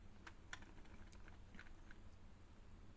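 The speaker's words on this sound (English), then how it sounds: "Let's see what happens if I use the cursor keys." Computer keyboard cursor keys pressed in a few quiet, scattered taps while editing a presentation board layout in InDesign, heard close over a low steady background hum.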